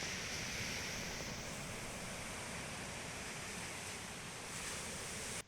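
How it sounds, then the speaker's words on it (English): Rough sea surf crashes onto the shore on a cold morning, a dense continuous roar of waves with wind noise, loud and close throughout, no voices. "this morning, sea looks a little bit angry"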